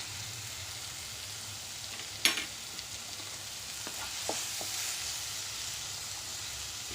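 Bottle gourd curry with chopped capsicum and salt sizzles in a pan, a steady soft hiss broken by a sharp clatter and a few light stirring knocks.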